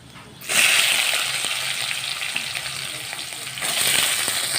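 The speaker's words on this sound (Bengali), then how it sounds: "দিয়ে পেঁয়াজটাকে ভালো করে ভেজে নেব" Chopped onions hitting hot oil with bay leaf and whole garam masala in a pan, a sudden loud sizzle that settles into a steady crackling hiss, close and continuous, flaring again near the end.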